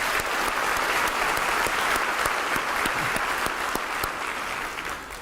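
Sustained applause from an audience honoring school district board members at a State of the District event, even crowd clapping with a few distinct nearby claps, tapering slightly at the end.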